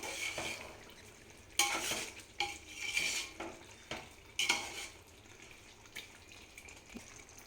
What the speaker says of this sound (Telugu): చికెన్లో చికెన్ ఒకసారి కలుపుకుందాం